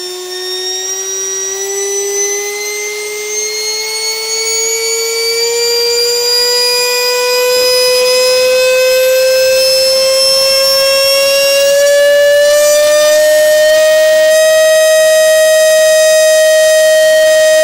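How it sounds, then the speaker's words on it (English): A Wings Maker X-35 RC plane's electric motor spins up slowly under throttle, its whine rising steadily in pitch and growing louder over about eighteen seconds, close and continuous. "So we're going to do another slow throttle up after the two without on the same battery"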